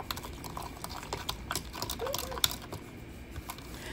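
Flour and apple cider or regular vinegar being stirred together for pork chop gravy, a soft scraping and tapping of utensil against bowl in quick irregular strokes, faint and close with no talking.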